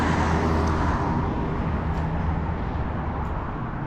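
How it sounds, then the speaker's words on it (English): Tow truck rolling along a street at night in the Hochelaga borough of Montreal, a steady low engine rumble and road noise close by that fades slightly as it passes, no talking. "Probably that tow truck that was at that tow truck company we passed."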